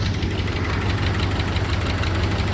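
An old muscle car, bought from a museum and not run for a decade, idles with a sticky lifter, a loud close rumble with a rapid steady ticking knock pulsing through the whole stretch.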